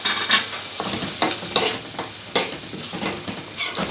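Garlic ginger paste frying with cow trotters in a pan, a steady sizzle broken by repeated scraping and clinking strokes of a spoon stirring against the metal, close and fairly loud, no voices.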